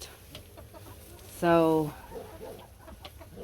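A hen clucking from her nest on a small farm gives one loud, harmonic burst of stacked squawks lasting about half a second, with faint speech and outdoor noise around it.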